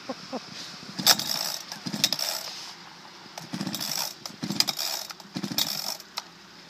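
Repeated pulls on a chainsaw starter cord come as a series of short rattling, ratcheting bursts with metallic clicks, and the engine never catches.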